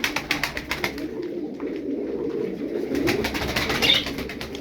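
Soft, low cooing of pigeons murmurs close by, with scattered fluttering and rustling from a group of birds.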